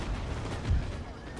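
Musket volley fire in the Empire Total War game: a rumble of low, booming shots around the middle of a short stretch, muffled under ongoing battle noise.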